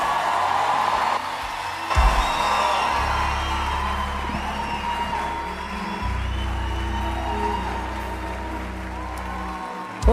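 A large church congregation at Lagoinha Alphaville applauds and cheers to welcome a pastor, with whoops and shouts over a deep, booming music bed that continues throughout.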